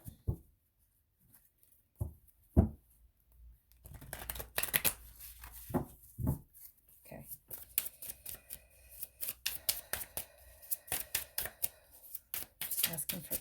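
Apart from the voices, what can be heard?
shuffling a tarot card deck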